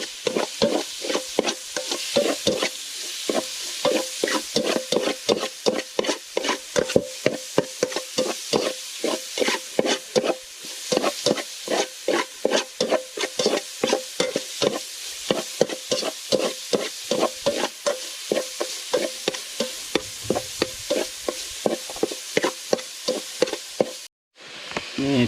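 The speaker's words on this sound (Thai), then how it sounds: "ขั้นตอนการคั่วก็คือต้องใส่น้ำมันนิดนึงเนาะหลังจากนั้นจึงคั่วใส่โอเคคั่วไปเลย" Squirrel meat stir-fries in a little oil in a pot, with a rapid, regular scraping of the utensil against the pot over a continuous sizzle, close and sustained throughout.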